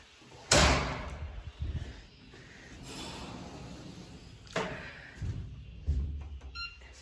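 A door is opened indoors at home, with several thuds and clunks of handling and latch movement spread over a few seconds, the louder impacts near the start and toward the end.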